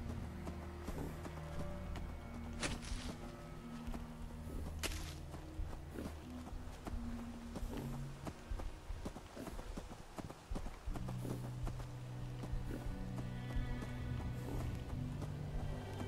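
Hooves of a pet cow clop in a steady walking rhythm, close and fairly faint, with a few sharper knocks scattered among the slow footfalls.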